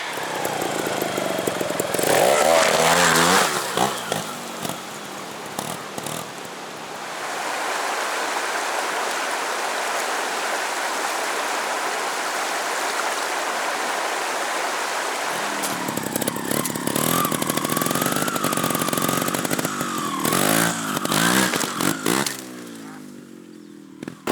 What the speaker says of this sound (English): But watch on a trials bike.